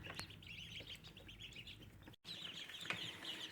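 A brooder of about a hundred week-old ducklings peeps in a steady, busy chorus of high chirps, fairly close, with a brief dropout partway through and no talking.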